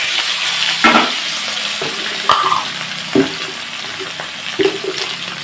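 New potatoes dropped into hot oil with browned tempering spices, giving a loud steady sizzle with several sharp bursts as pieces hit the pan, close and without talk.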